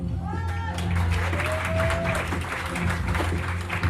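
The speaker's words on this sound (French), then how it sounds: "On applaudit très, très, très fort." A game show studio audience claps for a contestant, a dense patter of applause at moderate volume, with a host talking over it and a brief musical tone partway through.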